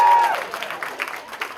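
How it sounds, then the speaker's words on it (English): An audience at a comedy show claps in a brief, scattered burst of applause that fades quickly. "Clap if you really like baseball."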